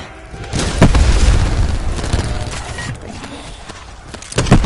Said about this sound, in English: sounded a lot wetter than an explosion really should.